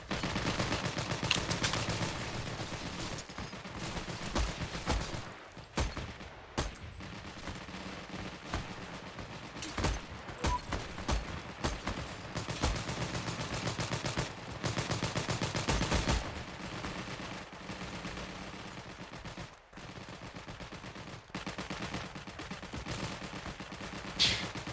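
MG13 machine gun from the video game Heroes and Generals firing repeated bursts, dense crackling gunfire loud and continuous with brief pauses between volleys.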